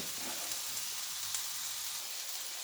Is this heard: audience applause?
no